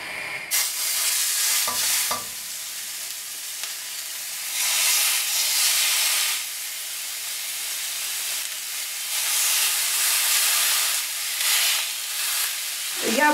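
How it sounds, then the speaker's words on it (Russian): Beef rolls stuffed with mushrooms sizzle in a dry frying pan with no oil, a loud steady hiss that swells and fades in waves as they are moved about, with no talking. "Теперь рулетики нам надо обжарить на сковороде."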